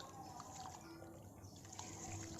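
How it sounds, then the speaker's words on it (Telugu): Rice being washed by hand in water before soaking for chicken biryani, a steady close swish and trickle of water running through the grains for a few seconds. "ఈ రైస్ని సరిపడగా వాటర్ వేసుకొని వాష్ చేసుకోవాలి"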